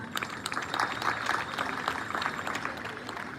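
An audience claps for learners at a campaign gathering, a steady, moderately quiet patter of many hands lasting a few seconds.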